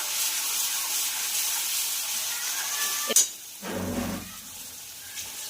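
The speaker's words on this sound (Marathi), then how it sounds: "यानंतर घालणार आहोत आपण कांद्याची पेस्ट आणि ते पण छानपैकी असं हलवून घ्यायचं आहे" Onion paste frying in a pan, a broad steamy sizzle that briefly cuts out after a sharp clatter and then returns as a lower, bubbling fry.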